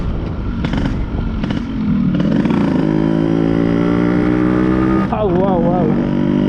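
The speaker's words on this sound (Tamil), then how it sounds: "அந்த பீட்டே வந்து வேறு லெவலு வண்டியில்." A stock Yamaha RX100 two-stroke motorcycle runs close by with a loud, buzzy exhaust beat that rises in pitch, then revs sharply and wavers near the end, with a voice talking over it.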